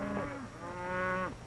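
Cattle low and moo in a long, drawn-out call on an open range while rustlers work them over with a hot branding iron, a single sustained bellow that rises and then fades, heard alone and fairly close.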